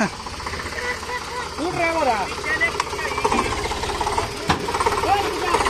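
An Eicher 485 tractor and a Holland 3630 tractor, working to free a stuck trolley, give a steady chugging diesel rumble with knocking pulses throughout. Voices talk over the engines.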